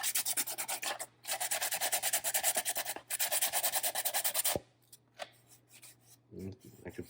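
Hand sanding on the surface of a 3D printed part, heard close up as rapid rhythmic rasping strokes in two long bursts with a short pause between, followed by quieter scattered scuffs and handling noises.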